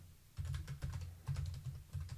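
Fingers type on a computer keyboard in bursts of quick, close clicking keystrokes separated by short pauses, with no talking.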